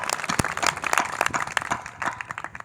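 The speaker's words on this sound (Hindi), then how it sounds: "इनके सम्मान में एक बार जोरदार ताली बजा दो।" An audience at a Hindi poetry stage event breaks into brisk, dense clapping that goes on steadily throughout, loud and near, with no talk over it.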